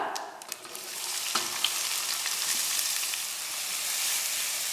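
Finely chopped onion frying in hot oil with cumin seeds in a pan, a steady, close sizzle with faint stirring scrapes and occasional pops, no voices.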